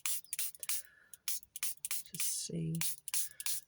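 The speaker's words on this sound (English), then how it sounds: "I'm going to activate it, give it a little spray. Got this little mini spray" A mini spray bottle mists water onto paint in a string of quick, sharp hissing spritzes close to the microphone, with a person speaking briefly between them.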